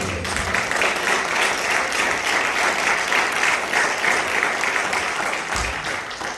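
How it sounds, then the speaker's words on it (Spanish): A church congregation claps steadily and loudly for several seconds, a dense continuous wash of many hands with no pauses, close and alone. "Denle palmas al Señor."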